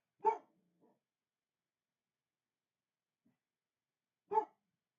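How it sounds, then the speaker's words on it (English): A household dog gives two separate barks about four seconds apart, each short and moderately loud and slightly distant, with silence between and a faint softer yip after the first. "my dogs are barking"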